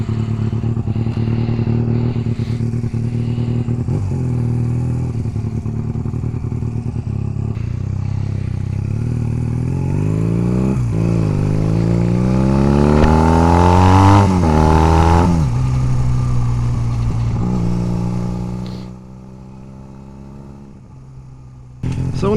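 A lightweight Honda Rebel 250 bobber motorcycle engine running close by, a steady idle that rises through several revving, accelerating sweeps before dropping back and cutting out near the end.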